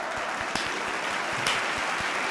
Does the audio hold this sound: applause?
yes